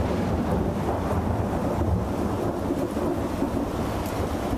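Thunderstorm over a city with a bursting sky and lightning strikes, a steady dense roar of wind and rain-like noise with low rumbling throughout, loud and continuous, no voices.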